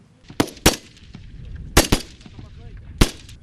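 Live rounds fire from real weapons at a border guard cadet training range, five sharp loud shots in irregular bursts, some quick pairs, with echoing tails and no talk.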